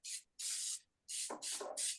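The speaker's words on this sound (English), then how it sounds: "first we're gonna give it a little bit of a quick spray." Cooking spray hisses into a bun pan in five short, close bursts, two separated by a pause and then three in quick succession, with a faint low murmur under the later ones.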